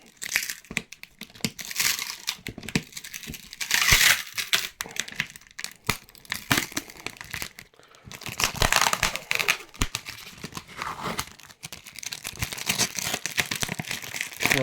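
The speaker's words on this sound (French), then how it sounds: "De toute façon, je vais le déchirer maintenant." Wrapping paper on a small surprise package is torn open, a continuous close crinkling, crumpling and ripping that runs for about fifteen seconds in uneven bursts, with no talking.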